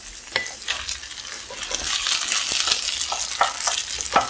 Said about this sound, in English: I have added the mushrooms in there and the pecans in there, and now they're cooking together